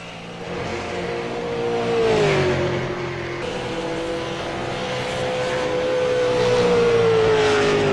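Race cars, including the number 69 Dodge Hemi Chevrolet, roar around the track during a lap race, a sustained engine drone with pitch sweeping down and back up as cars pass, loud and continuous with no voices.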